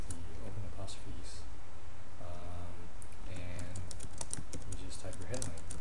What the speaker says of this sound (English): Type your headline.